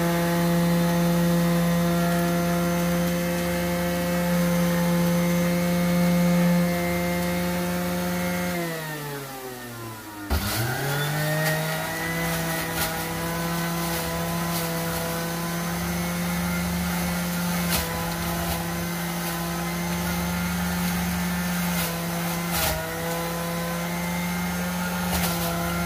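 Macabo (cocoyam) is being crushed to a steady, close motor whine with a hum underneath. Partway through, the pitch sags sharply, then climbs back and carries on.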